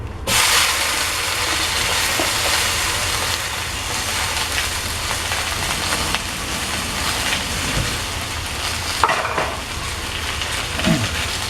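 Choy sum stir-fries in a hot pan with a loud, steady sizzle and hiss and occasional scrapes from stirring, and no one speaks.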